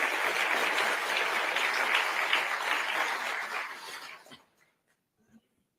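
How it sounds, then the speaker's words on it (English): At a Pancakes & Politics business event, the audience gives the sponsors a brisk round of applause, full clapping for about four seconds that fades quickly into near silence. "Give them a round of applause"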